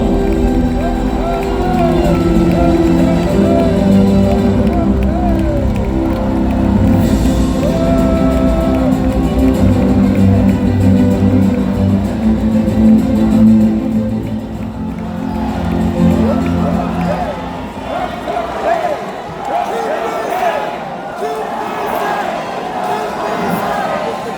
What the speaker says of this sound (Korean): 박수로 맞이해주시기 바랍니다